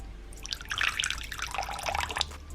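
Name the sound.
water poured into a tarantula enclosure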